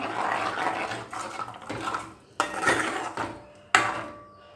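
Metal spoon scraping and clinking against a pot of buttermilk gravy in repeated strokes, with sharper knocks now and then, close by and fairly loud.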